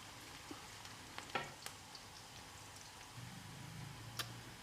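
Onions sizzling in a pot as they brown for peas pulao: a faint, steady fry with a few sharp clicks and stirring knocks over quiet background hiss.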